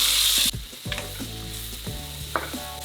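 Diced breakfast potatoes fry in a pan for a potato hash, a steady close sizzle broken by a few scraping stirs and soft knocks, with no voices.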